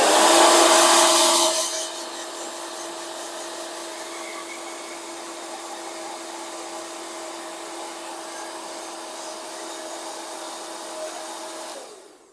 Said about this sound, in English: got a hairdryer